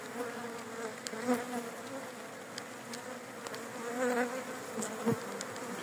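A dense, steady drone of many honeybees buzzing close around an opened hive colony during a beekeeper's visit, rising and falling slightly with no voices.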